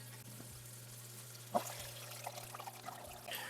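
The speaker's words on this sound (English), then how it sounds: "that rush of water that is now filling up the second layer is coming down" Water from the top layer of an ebb and flow emersed aquarium plant setup siphons down into the lower layer, a soft pouring trickle that swells into a brief gush and then keeps flowing faintly over a steady low hum.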